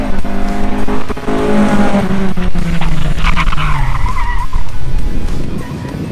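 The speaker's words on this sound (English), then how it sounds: "Brandon took the cars around" A race car with a Honda K-series engine roars loudly around the track, engine revving and tires squealing as it corners hard.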